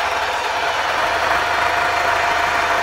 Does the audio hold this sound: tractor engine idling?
yes